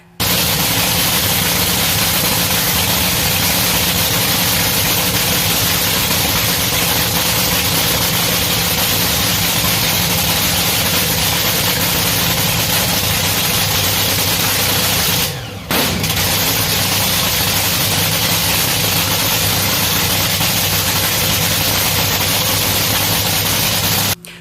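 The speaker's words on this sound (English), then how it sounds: "That is the throttle whack." NHRA drag racing engine at the Indy Nationals during warm-up, a sustained, very loud roar held for over twenty seconds with one brief dip midway.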